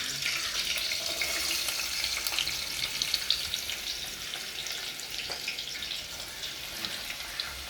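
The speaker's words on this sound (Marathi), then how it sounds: "आपण तेलामध्ये परतून घेऊया." Chili, garlic and chopped onion fry in hot oil over a wood-fired stove, giving a loud, steady sizzle and crackle close by for several seconds with no talk.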